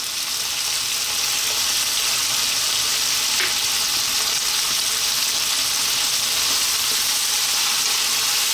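Garlic ginger paste sizzling loudly in a hot pan, a dense continuous hiss of frying that stays steady and close throughout with no voices.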